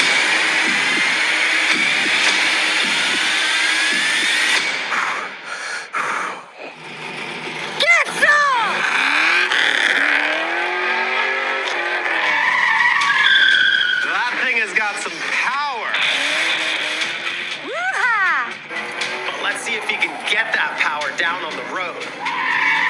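A Nissan 240SX S14 drifts and skids, its tires squealing in long wavering howls over engine noise. Loud and close, with people talking at points throughout.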